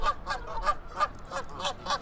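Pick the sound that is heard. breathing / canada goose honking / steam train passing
canada goose honking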